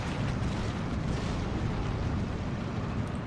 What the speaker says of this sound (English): they are bombing my tanks in order to force them back